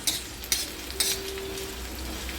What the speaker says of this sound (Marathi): कांदा भाजून घ्यायचा थोडा।